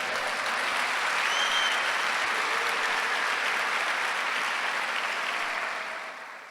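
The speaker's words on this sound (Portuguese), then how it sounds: "Dá um aplauso ao Senhor." Church congregation at a Sunday service breaks into dense, sustained applause, a steady wash of many hands clapping that holds for several seconds before tapering off at the end.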